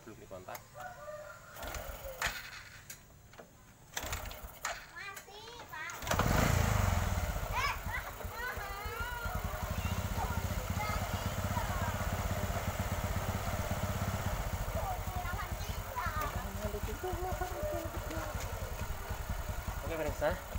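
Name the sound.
motorcycle engine running after cylinder bore repair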